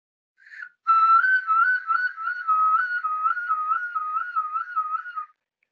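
Warbling finger whistle: a single sustained whistled tone with rapid, regular breaks in pitch, loud and close, heard alone for about five seconds.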